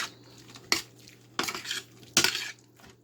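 A utensil stirs zucchini pie filling in a bowl, giving three sharp clinking scrapes against the dish spaced about a second apart, close and clear with no talking.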